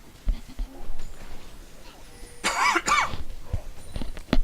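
A single sharp cough from a commentator casting a League of Legends esports match, close to the microphone and loud, rising from quieter, lightly mumbled talk and game noise.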